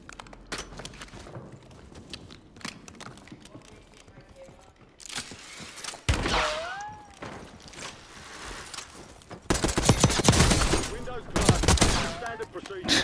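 Tanto .22 SMG gunfire in Call of Duty on Rebirth Island sounds as rapid automatic bursts, quiet at first and then loud dense fusillades later, mixed with game effects and a rising whoosh.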